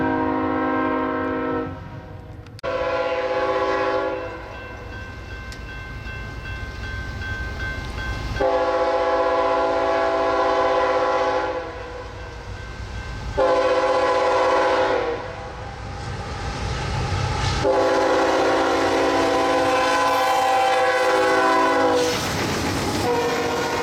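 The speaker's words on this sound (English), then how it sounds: "Norfolk Southern finally gets their UPS train on the move" Freight trains roll through the Fostoria, Ohio junction, including a Norfolk Southern UPS train, with repeated long horn blasts sounding loudly over the steady rumble and clatter of passing railcars.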